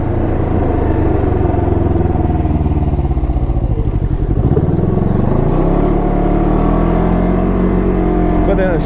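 A Can-Am Ryker 600 three-wheeler with a CVT rolls along on light throttle, its engine a steady low drone that dips and rises gently, continuous and close, with a rider's voice talking over it.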